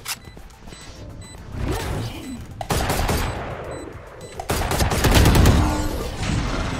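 Guardian semi-automatic rifle fire in the tactical shooter Valorant: three sharp, loud single shots spaced a couple of seconds apart, each leaving a brief ringing tail over quieter in-game clatter.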